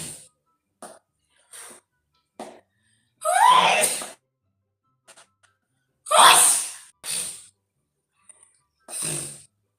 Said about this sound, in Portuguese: Bom espirro.